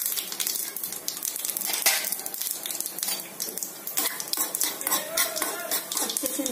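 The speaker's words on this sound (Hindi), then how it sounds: "तड़के के लिए कढ़ाई में घी गर्म हो चुका है, अब उसमें राई," Mustard seeds and chana dal crackling in hot ghee in a kadhai for a curd rice tempering, a dense busy sizzle of pops and spatters with metal clatter of a spoon against the pan, close and loud throughout.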